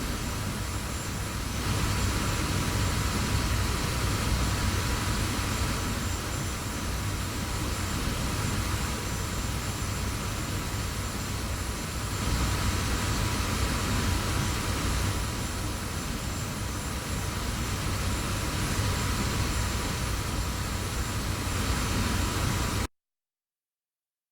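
F-86 jet fighter engine in flight in a combat flight video game, a loud continuous roaring whine that holds steady with slow swells in intensity before cutting off abruptly.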